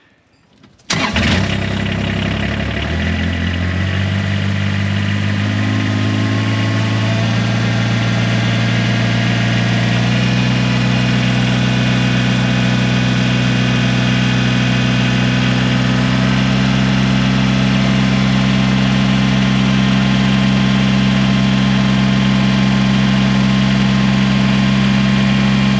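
A Kubota RTV-X1140 utility vehicle with a fuel-starvation fault cranks briefly, then its engine catches and settles into a loud, steady, close-up idle with a constant low drone, no voices.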